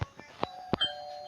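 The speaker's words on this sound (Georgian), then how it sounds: "უცებ ესმის ზარის ხმა." A doorbell rings once with a faint, short chime indoors, standing alone in the quiet.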